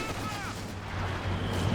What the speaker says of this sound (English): MG34 suppressing away.